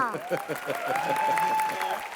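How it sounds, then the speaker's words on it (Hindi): Audience applause at an Indian music award show: a brief swell of dense clapping, with a sustained voice or tone riding over it. "जोरदार तालियां"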